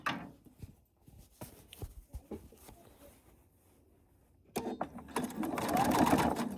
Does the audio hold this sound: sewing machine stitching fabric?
yes